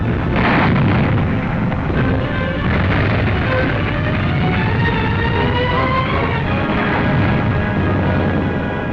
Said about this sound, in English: With the enemy pinning down our troops from close range with a mortar barrage